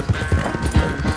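Horse hooves clip-clop at a brisk, even trot in Red Dead Redemption 2, close and clear over a soft background bed.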